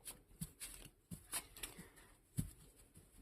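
Tarot cards being shuffled, soft quiet riffles and taps in a few uneven bursts, close and alone with no talking.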